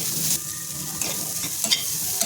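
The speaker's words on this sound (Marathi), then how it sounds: "त्याच्यामध्ये मी थोडा आळं टाकून घेते आणि लसूण ते पण त्याच्यामध्ये मी भाजून घेते" Ginger and garlic fry steadily in a hot pan with a continuous sizzle, and stirring adds occasional scrapes and clicks. No one speaks.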